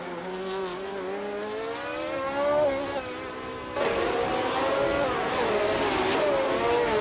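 Engine of a 1971 March 711 Ford race car in a racing video game, a loud continuous high revving whine that climbs and shifts pitch through gear changes, steady and close with no talking.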